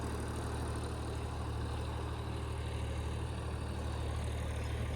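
A small tractor engine runs steadily in a field of paddy straw, a dense continuous low drone and rumble with no breaks and no voices.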